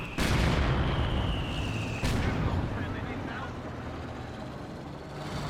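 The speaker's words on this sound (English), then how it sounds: "Trying to repair up the mortar pit while under howitzer fire." Howitzer artillery in Company of Heroes 2 booms in two heavy, close blasts that roll into a long rumbling wash of battle noise, with speech mixed in underneath.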